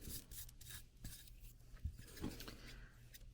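Fine sanding on a Blythe doll head to smooth it, a soft close rasping and rubbing in short irregular strokes with no talk.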